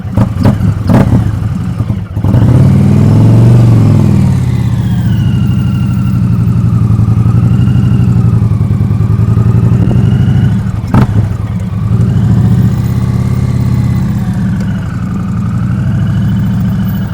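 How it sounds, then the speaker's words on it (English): A 2023 Indian Pursuit Elite motorcycle held at raised RPM during slow-speed maneuvers: a close, loud, steady engine drone that rises and falls gently with throttle, plus a couple of brief clicks or knocks along the way. "You might hear my RPMs a little bit higher than they normally are"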